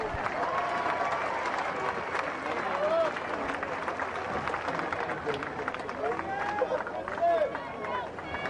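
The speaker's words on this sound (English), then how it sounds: "Give those ladies a round of applause." A crowd at a national swimming championship applauds in a sustained, moderately distant roar of clapping and cheering, with voices calling out through the noise.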